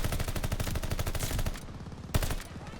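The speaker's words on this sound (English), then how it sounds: "the Automaton is one of the most underrated guns in the game" Automaton assault rifle in Call of Duty: Vanguard firing rapid full-auto bursts, a steady close rattle of shots, a pause, then a single sharp shot and tail.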